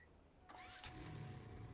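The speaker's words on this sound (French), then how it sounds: "On va dire que je vais prendre la moto pour y aller." A motorcycle engine starts up in a video game with a quick whirring crank that turns into a steady close idle rumble, following a short mechanical click.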